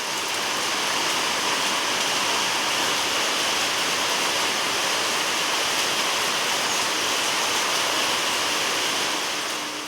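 Steady, dense rain falls continuously at close range, a broad even hiss with no pauses and no voices.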